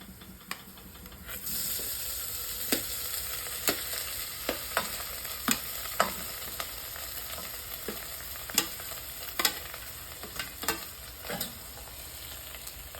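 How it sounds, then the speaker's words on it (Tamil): Mashed potato being stirred into a hot tempering in a pan for Mumbai-style vada pav, a soft steady sizzle with repeated scraping clicks of the spoon against the pan, faint and close, no talking. "இந்த உருளைக்கிழங்கையும் சேர்த்து நல்லா மிக்ஸ் பண்ணிக்கலாம்."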